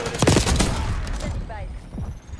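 Gunfire in the video game Black Ops 6, a loud close burst of rapid shots at the start that fades into quieter scattered reports and game sounds.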